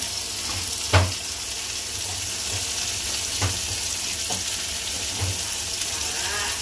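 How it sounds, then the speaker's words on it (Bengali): Ground chili and cumin pastes hitting a hot frying pan give a steady sizzle throughout, with a few sharp clinks and spoon taps over it and no talking. "তো মরিচ বাটা দিয়ে দিচ্ছি, জিরা বাটা"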